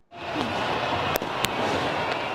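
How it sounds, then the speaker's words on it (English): Fireworks celebration in Tahrir Square, heard as a dense, distant crowd-like roar with a couple of sharp bangs cutting through about halfway. "in Tahrir Square, there were fireworks celebrations"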